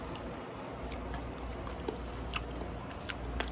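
Close, quiet crunching bites into crunchy garlic ahi poke, several crisp chews spaced irregularly over a soft background, no talking.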